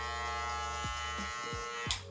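Electric hair clippers fitted with a number 1 guard during a mid bald fade haircut, a steady close-up motor buzz whose pitch shifts briefly as the blades move through hair.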